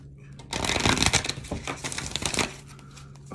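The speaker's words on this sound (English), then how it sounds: "Give y'all one more good shuffle." A deck of cards is shuffled up close, a dense riffling flutter lasting about two seconds that ends with a soft tap.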